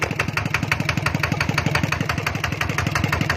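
A motorcycle engine on a used bike held at a steady fast idle, its close, even chugging beat repeating rapidly with no voices over it.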